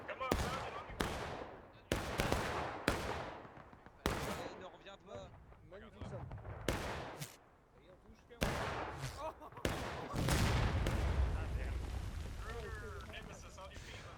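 Gunshots in the Civil War battle game War of Rights, set on Nicodemus Hill, ring out as sharp separate cracks at uneven intervals with echoing tails, while a voice talks between them and a louder rumbling swell builds toward the end.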